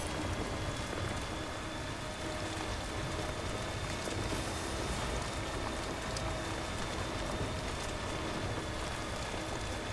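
Steady rain pours down in the Death Stranding game world, a dense continuous hiss with faint pattering drops filling the whole stretch, fairly loud and unbroken, with no voices.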